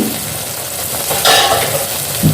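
A pan lid comes off cabbage frying in a village-style Bengali kitchen, releasing a steady loud sizzle with a brief clatter of the lid, close by and without talk.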